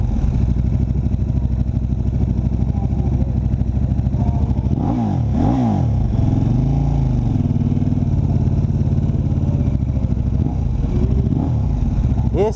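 A KTM RC8 1190 sport motorcycle with an Akrapovic race exhaust idles with a loud rumbling exhaust, revs sharply a few times in the middle, then settles back to idle.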